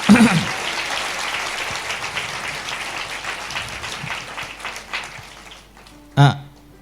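A Sunday church congregation applauding in a sustained, even burst that gradually thins out, followed by a short louder thump near the end as the clapping fades.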